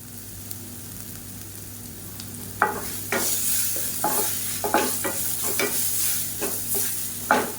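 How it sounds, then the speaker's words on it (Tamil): Rasam powder and asafoetida sautéing in a pan with oil for a South Indian lunch, giving a steady sizzle broken by repeated scraping stir strokes of a spoon, close and fairly loud, with no talking. "அந்த ரசப்பொடியை சேர்த்துக்கோங்க சேர்த்துட்டு லேசாக வதக்கி விட்டுக்கலாம்"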